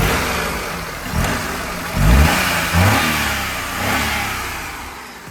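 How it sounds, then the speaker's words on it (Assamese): A used Hyundai Eon Sports car engine runs close by and revs up several times, the pitch rising and falling in repeated surges over a steady idle. "মই ইঞ্জিনটো এবাৰ স্টাৰ্ট কৰি শুনাই দিও আপোনালোকক"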